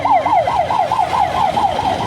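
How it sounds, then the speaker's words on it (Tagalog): An ambulance siren wails loud and close in quick, regular rising-and-falling sweeps as it passes, with no voices over it. "Araw-araw na lang may ambulansya no."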